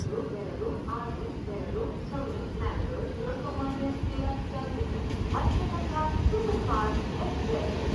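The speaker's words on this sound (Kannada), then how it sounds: "ಕೊಂಕಣ್ ರೈಲ್ವೆಯ ಮೋಸ್ಟ್ ಫೇವ್ರೆಟ್ ಟ್ರೈನ್ ಇದೆ ಮತ್ಸ್ಯಗಂಧ ಎಕ್ಸ್ಪ್ರೆಸ್" Matsyagandha Express on the Konkan Railway, the Mangaluru Central to Lokmanya Tilak Terminus Mumbai train, rumbles past in a steady, continuous roar with faint rhythmic rattling, heard on a coastal route in the monsoon season.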